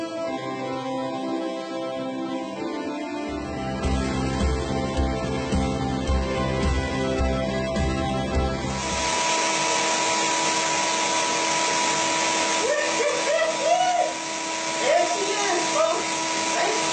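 A vacuum drone runs steadily throughout as bees are sucked up from a hive, its pitch and texture shifting partway through as the hose draws in material; close and continuous.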